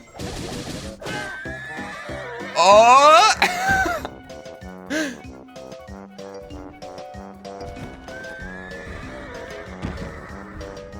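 Horses in the video game The Legend of Zelda: Tears of the Kingdom let out a loud, shrill neigh midway, with fainter whinnies and game sounds around it. A voice exclaims briefly.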